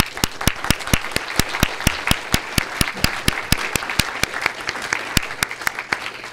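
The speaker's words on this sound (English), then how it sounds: "I think they really deserve a big round of applause" Audience at a research day session applauds the oral presenters; steady applause with several sharp, evenly spaced claps standing out, sustained throughout.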